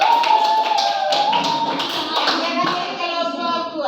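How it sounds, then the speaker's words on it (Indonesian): A classroom of children clapping for a presenting group, with brisk taps and claps under tonal voices and chatter, fairly close and loud throughout. "Tepuk tangan untuk"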